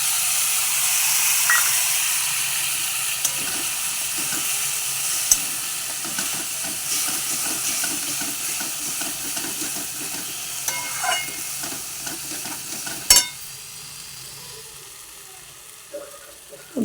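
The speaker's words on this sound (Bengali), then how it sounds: "ভালো করে কষিয়ে নিই," Spices sautéing in oil with a splash of water, a steady hissing sizzle with scraping stirring taps throughout, moderately loud and close, with occasional clinks.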